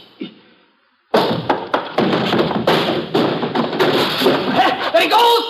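A barrel rolling and crashing across a warehouse floor, a loud sustained rumble with repeated heavy thuds and clatters that starts abruptly after a brief quiet moment and keeps banging on.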